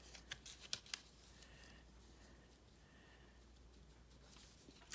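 Scissors snipping through gray paper, a quick series of crisp, close cuts at the start that fade into quiet rustling, faint overall.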